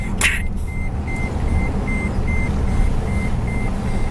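A car's seatbelt warning chime beeps in a steady, evenly spaced series of short tones over the constant low rumble of the running vehicle.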